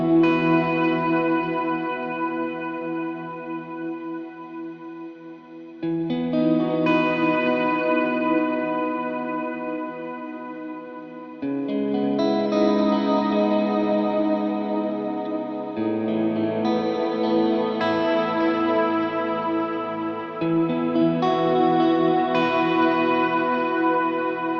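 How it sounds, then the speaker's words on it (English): Electric guitar run through a huge cloud-style reverb on a Line 6 HX Stomp, loud sustained chords swelling into a dense wash of long decay, shifting to new chords every few seconds with no talking. "the decay so that it becomes like the cloud setting on the Big Sky"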